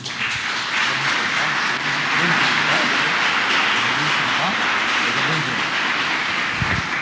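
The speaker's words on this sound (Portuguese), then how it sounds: "Você pode aplaudir ao Senhor?" Congregation in a church service applauding together, a steady, dense wash of clapping that fills the whole stretch without pause.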